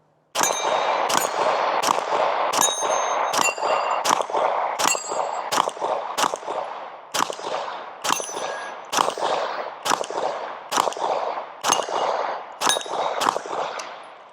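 A Glock pistol fitted with a Radian Afterburner compensator fires a full magazine, about fifteen sharp, loud reports in a quick, steady rhythm with short ringing tails, close by and without talk.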